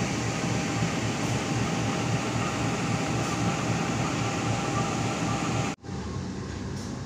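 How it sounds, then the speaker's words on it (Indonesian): Recorded aboard the KA Mataram economy premium passenger train at Kroya station in Cilacap Regency, where a cargo train has just arrived. A loud, steady broadband rumble of the train fills the clip and cuts out abruptly near the end, then resumes. "Dan itu juga ada KA Kargo yang baru datang di stasiun Kroya"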